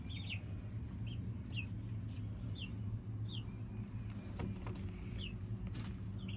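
Backyard chickens, including a gray lavender Orpington and a golden Wyandotte, make short clucks and chirps scattered over a steady low hum, fairly faint with no talking.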